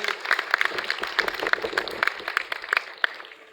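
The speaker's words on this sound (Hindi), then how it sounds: "एक मरतबा जोरदार तालियां बजा दें दोनों के लिए" A group in a Python class claps for two people. The dense, crackling applause carries on for a few seconds, then thins slightly toward the end.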